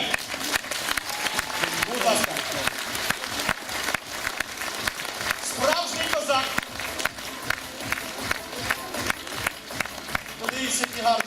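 An audience at a live comedy stage show in Kalush claps in a steady, moderately loud wash of applause with sharp individual claps, while voices murmur and call out beneath it.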